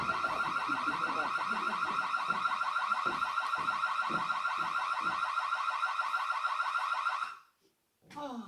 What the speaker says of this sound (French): Oh, je commence vraiment à en avoir ras la casquette de cette alarme qui se déclenche toute seule.